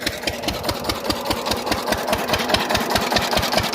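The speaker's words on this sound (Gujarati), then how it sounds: "જો હવે મશીન બંધ કરી દઉં" A small irrigation pump engine in a chickpea field runs steadily with a fast, regular chugging beat, loud and close, with no voices.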